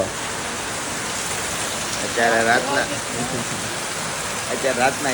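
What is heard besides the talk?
heavy rain falling at night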